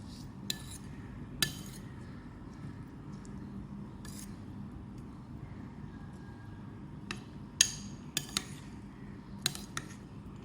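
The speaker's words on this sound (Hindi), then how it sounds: "मिक्स कर लेंगे इसको।" A spoon mixing mint sauce with salt and roasted crushed cumin in a bowl, giving sparse light clinks and taps against the dish over a quiet background.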